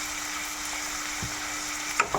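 Curry leaves and two chopped medium onions frying in hot oil make a steady, close sizzle, broken by a couple of brief stirring knocks near the end.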